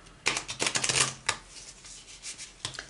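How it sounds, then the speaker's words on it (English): Tarot cards are shuffled by hand, close up: quick papery riffling bursts in a busy cluster, then a softer pause and a final short flurry, with no one talking. "apparently I need to shuffle the cards"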